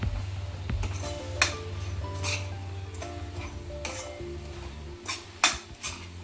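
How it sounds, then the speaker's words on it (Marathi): Grated fresh coconut being roasted in a pan over medium heat, with scattered sharp scrapes and clinks of a utensil against the pan over a steady low hum, moderately faint and without speech. "आता यामध्ये आपण ओलं खोबरं टाकून घेऊया. थोडंसं भाजून घेऊ."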